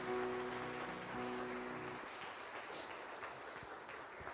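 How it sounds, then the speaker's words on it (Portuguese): A church congregation claps together in praise, producing a dense, even patter of applause that holds steady throughout, with a sustained musical tone lingering underneath during the first half. "Vamos aplaudir ao Senhor, em nome de Jesus"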